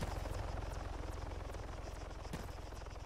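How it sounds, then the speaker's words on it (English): A police helicopter in a video game thumps steadily with fast rotor pulses, loud and close throughout, with no talk over it. "Is it a police chopper?"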